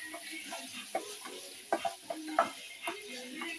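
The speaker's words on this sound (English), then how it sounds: "So you stir." Nigerian fried rice being stirred in a pot, soft scattered scraping and tapping of a spoon over a quiet hiss, close and fairly faint with no talk.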